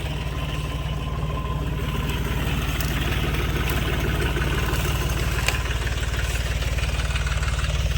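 A tractor engine runs steadily while powering a sprayer in a field, producing a continuous low, even idling drone that stays loud and constant throughout, with no voices.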